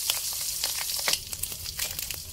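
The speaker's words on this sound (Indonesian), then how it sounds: "Goreng telurnya setengah matang aja." Eggs fry in hot oil in a pan, cooked to half-done for a sweet-spicy soy sauce egg dish with green chili, giving a quiet crackling sizzle with scattered pops.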